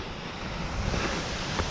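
Steady broadband rush of a flowing river near Skógafoss waterfall in Iceland, a continuous close wash of water noise with slight wind, no voices.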